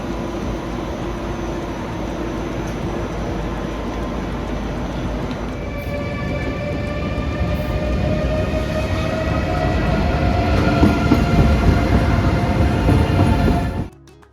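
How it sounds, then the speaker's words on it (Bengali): A steady mechanical rumble fills the cabin of a train travelling through Germany, swelling louder midway with droning tones before cutting off abruptly. "সেকেন্ড ট্রেনটায় উঠে পড়েছি"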